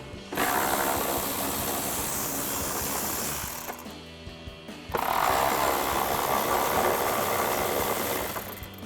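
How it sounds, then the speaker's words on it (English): Ratchet with an 8mm socket backing out fender liner screws on a Jeep Wrangler JL, two rapid close clicking runs separated by a short pause. "we're going to grab our 8mm socket on our ratchet to go ahead and pull those out."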